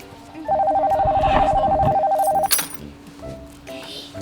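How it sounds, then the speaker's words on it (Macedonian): A steady electronic phone ring sounds for about two seconds, loud and close, followed by quieter background noise and faint tones. "Адриан, ти звони телефонот."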